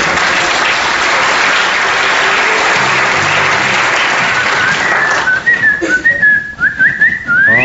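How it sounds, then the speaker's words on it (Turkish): A loud, steady whistle rings out over a wash of noise, followed by several short rising whistled calls, like a signal. "bir ıslık öttürür. Geliyorum ıslığı."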